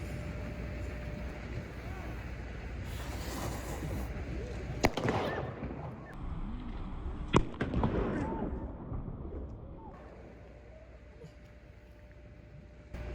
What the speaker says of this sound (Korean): 옆에서 폭죽하다 폭탄 사고 일어났는데